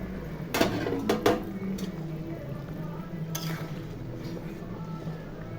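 Fried shrimp tip into a simmering curry in a pot with a few close clatters and soft splashes early on, then a steady low bubbling simmer continues underneath.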